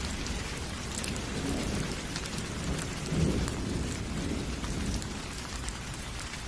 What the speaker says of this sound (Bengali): যখন বাড়ি ফিরব তখনই মুষলধারে বৃষ্টি শুরু হয়